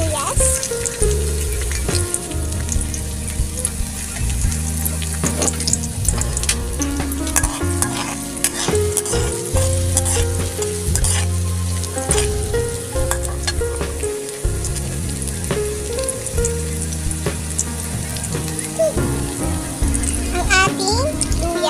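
Onion fries in a pan for chicken adobo with a steady, loud sizzle. Repeated scraping strokes of a spatula stir it all the way through, up close, with occasional speech mixed in.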